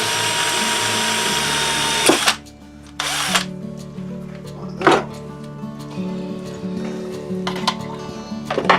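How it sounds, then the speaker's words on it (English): A power drill drilling a hole in a wooden candlestick base whines steadily, with brief pauses and speed changes between bursts, close and loud. No one talks. "So we'll just drill a hole in this base just so we can pass our cable through it."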